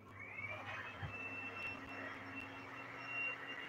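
An air conditioner under repair gives a faint, steady electrical hum with a thin high whine, plus small mechanical clicks and knocks, heard alone without talk.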